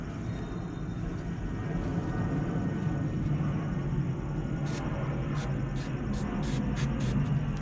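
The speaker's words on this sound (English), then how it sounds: "Oh, planes are landing over us today." Airplanes passing overhead on landing approach make a low, steady rumbling drone throughout. Several short hissing spray bursts are heard close by near the end.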